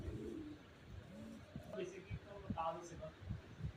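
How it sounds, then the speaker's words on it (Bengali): Caged pigeons, including Black King and house pigeons on a large pigeon farm, give low soft coos and rustle nearby while someone talks over them. "এই খাঁচায় দুইটা ব্ল্যাক কিং রয়েছে এছাড়া এই দুটো হচ্ছে হাউস পিজন"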